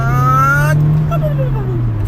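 A car pulls away from a red light during a speed test, its engine revving up loudly through rising gears, close and continuous.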